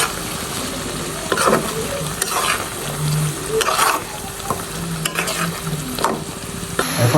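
Pieces of chicken are stirred into spiced masala frying in a pan, giving a constant loud sizzle broken by repeated scraping strokes of a spoon against the pan.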